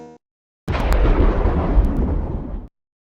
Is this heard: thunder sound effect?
yes